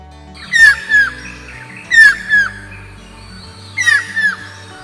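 Stork-billed kingfisher giving loud, harsh calls in three separate bursts, each a pair of rising shrieks about a second apart, over a low background hum.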